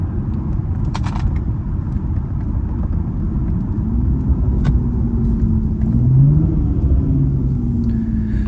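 BMW E91 335i Touring with N54 engine and tuned exhaust, valves open: a steady deep rumble with a couple of soft rises in pitch, close and continuous, no talking.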